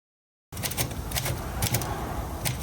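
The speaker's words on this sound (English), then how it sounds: "the clickety-clack of those writing machines" Vintage typewriters in a New York City typewriter repair and sales store clack away in quick, irregular keystrikes after a half-second of silence, sounding close and busy like several machines typing at once.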